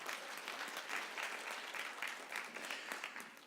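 Quiet scattered applause from a conference audience, a thin patter of hands clapping at a distance, fairly faint and steady.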